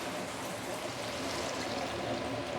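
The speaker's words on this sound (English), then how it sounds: "we're going to add in some water" Water pours into a pan in a steady, soft stream for a few seconds, fairly quiet and continuous, with no voices.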